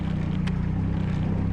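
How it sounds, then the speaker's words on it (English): A Giant 1200tele telehandler's diesel engine idles steadily close by, a low, even rumble with a brief rustle partway through and no speech. "kill the engine"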